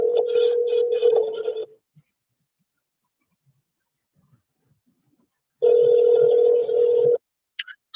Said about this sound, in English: let's see if this person picks up the phone.